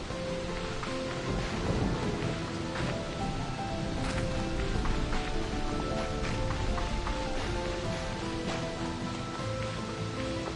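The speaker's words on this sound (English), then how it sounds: "This is a level 3 rain. It feels like a lot of rain." Heavy rainstorm with rolling thunder in the Slime Rancher 2 video game, a dense, steady roar of rain with deep rumbles throughout, loud and continuous with no talk.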